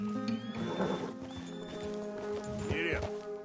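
Horse hooves clip-clop in a likely video game while a rider urges the horse on, a neigh rising near the end over a droning musical backdrop, with a voice speaking.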